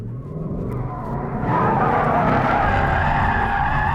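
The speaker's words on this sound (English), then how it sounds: "That was a drift." A 2018 Ford Mustang RTR drifts with its tires skidding, a loud, continuous rush of squeal and engine roar that swells and steadies about halfway through.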